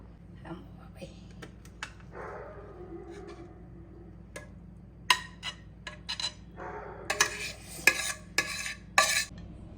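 Beetroot halwa being scraped and spooned from a pan into a ghee-greased bowl, with sharp metallic clinks and scraping clusters of utensil on cookware, louder toward the end, while people talk in the background.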